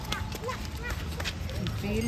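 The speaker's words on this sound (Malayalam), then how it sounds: "കുതിരവണ്ടി" Horse-drawn cart hooves clip-clop on a busy market street in Vellore, a scattering of sharp hoof taps mixed into crowd noise and talking nearby.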